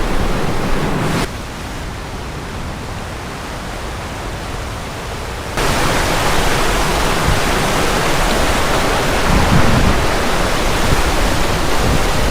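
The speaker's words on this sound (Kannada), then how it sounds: "ಈ ಕಲ್ಲಿನ ಒಳಗಡೆಯಿಂದ ನೀರು ಬರ್ತಾ ಇದೆ" Water gushes steadily from beneath ice at Kimasar waterfall in Kazakhstan, a loud, dense roar that dips quieter for a few seconds partway through, then resumes at full strength.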